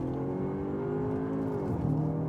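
Engine of a four-wheel-drive Cupra Terramar VZ2 SUV revving hard with launch control active. A steady, loud drone holds its pitch, then dips briefly as a gear changes. No voices are heard.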